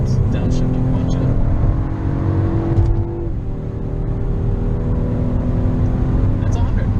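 A 2-liter BMW 328i accelerates hard after a downshift, its engine note climbing loudly from inside the car, briefly breaking at a gear change, then pulling steadily again under constant road and wind roar.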